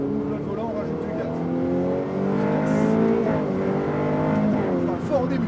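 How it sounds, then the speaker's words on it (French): A Ferrari F8 accelerates on the Circuit du Laquais race track, its engine a loud, sustained drone that climbs steadily in pitch, dips briefly and then rises again. "On ouvre le volant, on rajoute du gaz."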